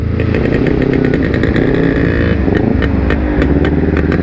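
A smoky motorcycle engine runs steadily and loudly up close, with a rough, buzzing, chainsaw-like drone and some rattling clatter throughout.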